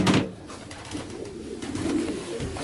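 A racing pigeon coos close by, a low, throaty burbling that rolls on continuously for a few seconds, loud and clear with no talk over it.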